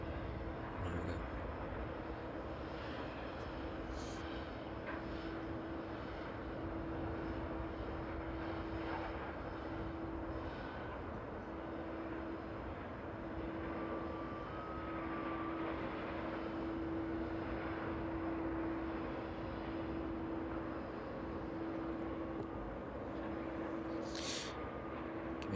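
Boeing 747 taxiing at East Midlands Airport in the evening, heard as a steady, fairly distant jet engine whine and rumble that holds evenly throughout.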